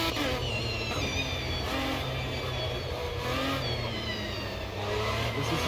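Lamborghini engine revving steadily in a racing game, a loud continuous mid-pitched drone with rising and falling pitch sweeps, no voices over it.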